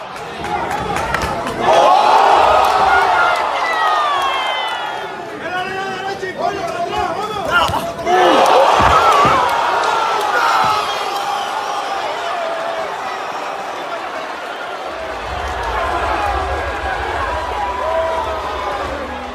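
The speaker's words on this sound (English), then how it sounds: "This crowd in a frenzy." Boxing arena crowd erupting into a frenzied roar after a knockout, loud sustained cheering and shouting with swells and dips, voices and commentary mixed throughout.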